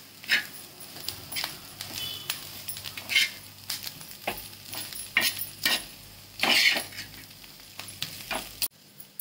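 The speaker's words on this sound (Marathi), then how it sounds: "कारल्याचा किस टाकून घ्यायचा याच्यात आणि चांगलं हलवून घ्यायचं" A spoon scrapes and stirs grated bitter gourd in a pan, with irregular clinks and scuffs of metal against metal over a soft background, close and moderately loud without talking.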